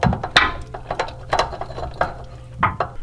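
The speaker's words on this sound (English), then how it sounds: "let's see if I can use the ratchet to get it off" A 3/8 ratchet with an extension clicks in short uneven bursts while loosening a power steering hose fitting on a Lexus LX470 / 100 Series Land Cruiser, close-up mechanical clicking with brief pauses.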